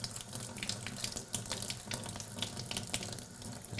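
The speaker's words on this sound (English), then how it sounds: "all you gotta do is rinse this off real good" Water runs steadily from a tap, rinsing soap and dirt out of an LG LHD45ELY6 dehumidifier filter, making a continuous close splashing hiss with small irregular bursts.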